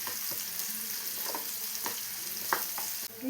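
Chopped red shallots sautéing in a pan for Kerala-style paal kappa, a steady close sizzle with occasional stirring scrapes and clicks.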